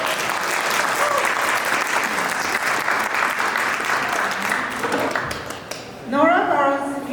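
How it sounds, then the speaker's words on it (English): Sustained applause from an audience at a Palestine-focused panel event, a dense wash of clapping that fades out before a speaker's voice takes over at the end. "Round of applause."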